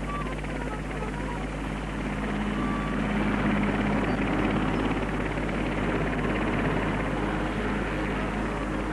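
A 1969 helicopter carrying a church spire through turbulent winds drones steadily with a heavy rotor rumble and broad engine roar, continuous and loud throughout with no pauses.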